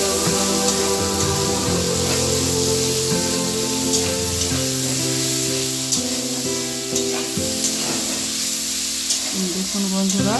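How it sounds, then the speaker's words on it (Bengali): Chopped onions frying in a little oil with whole garam masala and bay leaf, a continuous close sizzle with occasional stirring scrapes, under steady tonal background music. "দিয়ে দিচ্ছি কুচনো পেঁয়াজ। পেঁয়াজগুলোকে ভালো করে ভেজে নিই।"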